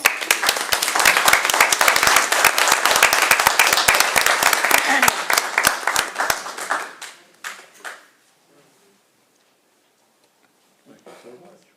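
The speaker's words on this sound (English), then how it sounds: "So let's give them a round of applause" A city council meeting audience claps briskly for staff members, a dense burst of hand claps that thins into scattered claps and fades to near silence, with a faint voice near the end.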